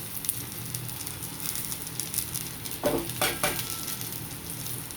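Spices sizzle in a pan as they are stirred, a soft continuous crackle with a couple of brief scraping stirs near the middle, no voices.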